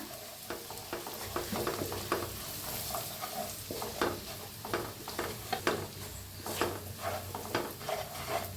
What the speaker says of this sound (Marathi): उरलेला मसाला होता त्याला बी भाजून घेऊया गॅस कमी करून मसाला भाजा